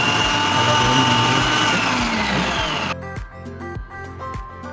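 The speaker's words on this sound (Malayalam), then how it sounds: "അപ്പം ഞാൻ ഒരു ഫുഡ് പ്രോസസ്സറിൽ ആണ് സവാള അരിയുന്നത്." A food processor chops four to five onions, its motor a loud, steady whir for about three seconds before breaking into short, uneven pulses of chopping. No voices are heard.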